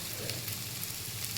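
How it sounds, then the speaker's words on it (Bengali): Soybean and potato curry with spices fries in a pan, giving a steady, soft, continuous sizzle with faint crackles, heard alone at low volume. "সয়াবিন আলু তরকারিটা মশলা দিয়ে ভাজা হয়ে গেছে"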